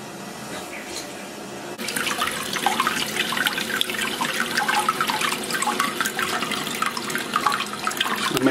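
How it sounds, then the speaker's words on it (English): Water rushing into a toilet cistern fitted with a Dudley Turbo Duoflush lever siphon, a steady hissing fill that starts softly and turns louder and fuller after a couple of seconds, close by. "we can go ahead and turn the water on and test"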